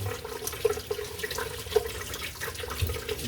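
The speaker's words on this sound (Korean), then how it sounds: "일단 물로 깨끗하게 씻어가지고" Running water splashes over beef ribs being rinsed in a kitchen sink, producing a steady, fairly faint stream with small irregular splashes and no talking.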